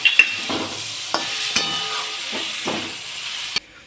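A spatula stirs boiled potatoes and chopped tomatoes frying on a hot tawa for Surti tawa pulao, giving repeated scraping strokes over a steady sizzle that stops abruptly near the end.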